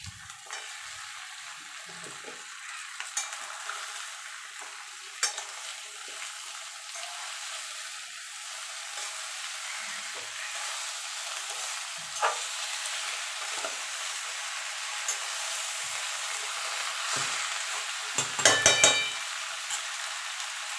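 Fish head and Malabar spinach sautéed with spices in a pan give a steady, close sizzle, with occasional soft stirring scrapes and clinks throughout.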